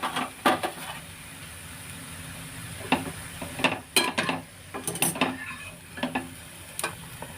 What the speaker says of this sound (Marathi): आता हे शिजलेले तर गॅस बंद करते आणि त्याला एका भांड्यामध्ये काढून घेते